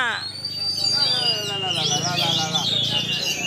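A songbird sings at a bird contest, with bright, rapid warbling phrases and whistles running through the clip over a busy crowd murmur and people talking nearby.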